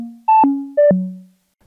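Short synthesizer notes from a Macrofreak with a very fast cycling envelope, each attack snapping with a clicky pop and an abrupt pitch jump, two quick bursts decaying into silence.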